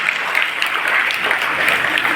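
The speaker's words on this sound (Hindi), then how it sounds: "जोरदार तालियां हो जाए इसके लिए।" Loud, lively clapping from a crowd at a school award ceremony honouring a second-place topper, many hands beating in a dense, even patter that holds steady for a couple of seconds.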